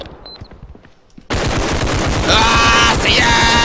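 Loud, rapid bursts of automatic gunfire from the realistic shooter video game Bodycam erupt suddenly after a quiet moment and continue as a dense, sustained volley close up.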